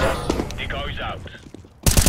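Decoy grenades in the video game CS:GO imitating gunfire: loud, sharp shot bursts at the start and a dense rattling volley at the end, with a brief voice in between.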